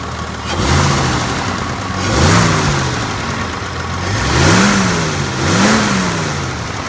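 Engine of a 1977 AMC Hornet revving repeatedly, four rising and falling blips over a steady idle, loud and close, with a quiet exhaust note and no talking.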